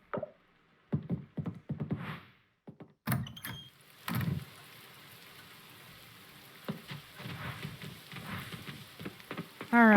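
Rain falling in the farming video game Coral Island, a faint steady patter under scattered clicks and thuds of in-game actions.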